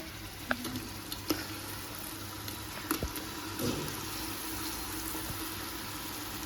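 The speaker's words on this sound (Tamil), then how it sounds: "வெங்காயம் தக்காளி எல்லாமே நல்லா நான் சொன்ன மாதிரி வதங்கிடுச்சு" Onions, tomatoes and ground biryani masala paste with ginger and garlic fry in a pan for mutton biryani, a steady close sizzle broken by a few sharp clicks and scrapes of stirring.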